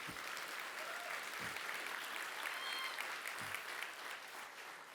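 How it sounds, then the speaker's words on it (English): Theatre audience at a tech community kickoff event applauding sponsors, a continuous even wash of clapping with a few low thumps, fairly distant and moderate in level. "let's give a round of applause to Kesis and Link"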